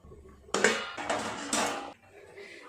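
A lid set down over a cooking pot, a few close metallic clanks and scrapes of metal on metal over about a second and a half, with no talk.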